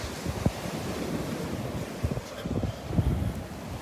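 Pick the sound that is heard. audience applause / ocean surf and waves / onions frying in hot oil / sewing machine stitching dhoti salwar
ocean surf and waves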